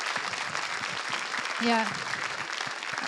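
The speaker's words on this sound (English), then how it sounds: "So maybe one more round of applause for those of them who are still here." An event audience gives a round of applause, with a brisk, moderately loud patter of many hands throughout and a brief spoken voice rising over the clapping midway.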